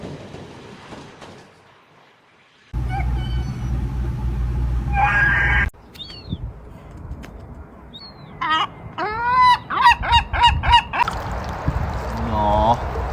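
Seagulls call in a burst of loud, honking squawks and rising cries, several overlapping near the end, with a rumbling stretch and some background noise before them.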